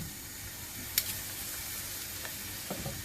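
Steady sizzling of food frying in oil, a constant crackling hiss with occasional sharper pops, close by and with no one talking.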